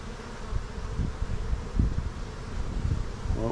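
Honey bees buzz around an opened hive during fall work in West Texas, a steady close hum with occasional louder passes and faint rustling.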